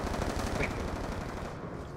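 Rapid sustained automatic fire from a sentry gun in Call of Duty: Black Ops 2, a dense unbroken stream of loud close shots running steadily for the whole stretch.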